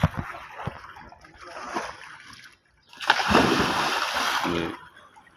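Scuba divers in training with oxygen cylinders on their backs swimming at the surface, giving a few soft splashes and then a louder, sustained burst of churning, sloshing water.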